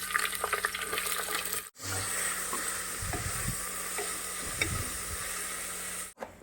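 Onions and green chillies fry in a pan with curry leaves for mutton curry, giving a steady close sizzle broken by a few scraping stirs and brief clatters, with no one talking.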